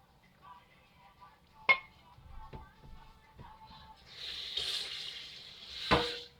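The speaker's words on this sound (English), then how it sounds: "Add a little bit of water in there and wash all the excess stuff in the saucepan" Water runs from a tap into a saucepan to rinse out leftover palm nut puree for abenkwan soup, a steady splashing stream in the second half with a few sharp clinks of the pan before it.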